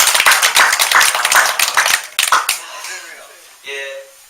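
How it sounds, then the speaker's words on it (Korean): A church congregation clapping together during a Wednesday service at a Korean church, a loud, brisk burst of many hands lasting about two seconds before thinning out, with a voice speaking briefly afterward. "박수요, 우리 박수."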